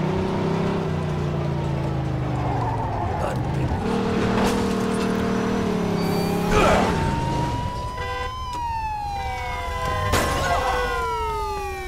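In the Mafia 2 video game, a car engine drones and shifts pitch as the car drives, while police sirens wail, tires squeal and someone talks over it.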